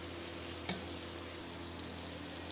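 Chicken and bitter melon are stirred in a hot pan, giving a quiet, steady frying sizzle with a single sharp scrape or clink of the utensil early on.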